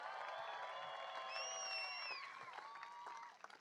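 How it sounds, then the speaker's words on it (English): Audience applause and crowd noise at the 2019 Royal Melbourne Show World Tree Felling Championship, fairly faint and distant, a steady wash of clapping with some whistles that thins out toward the end. "Give them one more round of applause, guys."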